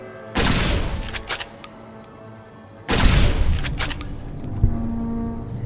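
Two loud bursts of holorifle energy weapon fire in Fallout New Vegas, each a sharp crackling blast that trails off with rattling echoes, separated by a short quiet gap.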